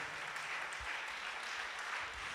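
A church congregation applauds together during a sermon, a steady, moderately faint wash of many hands clapping that continues evenly throughout.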